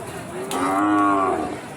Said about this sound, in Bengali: দেখুন গরুগুলো একেবারে সুপার অ্যাক্টিভ